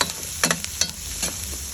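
Onions cooking in a pan until translucent, with a soft sizzle under intermittent scraping and stirring strokes, fairly quiet and close.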